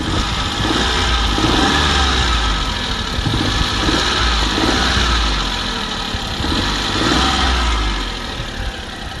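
Turbocharged engine of a Suzuki Every DA64 van, loud and close, droning steadily with a few swells in revs during acceleration.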